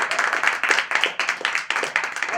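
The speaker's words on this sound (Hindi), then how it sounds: "जोरदार तालियां आप बजा दें एक बार" An audience at a self-employment and ayurvedic products seminar claps steadily in quick, dense rhythmic bursts for a couple of seconds, fairly close with no talk over it.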